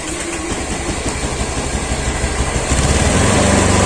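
A motorcycle engine running on used Shell Advance oil chugs loud and close, idling with a rough, rapid beat that rises as the throttle opens near the end.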